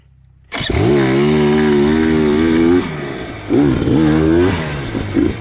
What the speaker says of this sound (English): a dead engine start